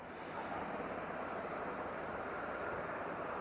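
Embraer airliner at Aberdeen Airport, a steady broadband jet engine roar held at an even level throughout, distant and continuous with no voices.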